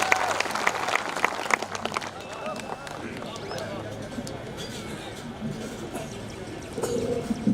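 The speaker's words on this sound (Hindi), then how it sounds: "आपकी जोरदार तालियों के बीच सुरेंद्र जैन जी।" Audience applause at an All India Mushaira poetry gathering in Bajpur, a dense burst of clapping at the start that thins into a lighter patter while voices talk over it.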